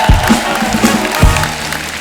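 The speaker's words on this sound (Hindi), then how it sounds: "एक बार हमारे मेहमानों के लिए जोरदार ताली हो जाए" A comedy-show studio audience applauds with a crowd clapping wash, broken by a couple of sharp low thumps and a brief tonal musical sting, while no one speaks.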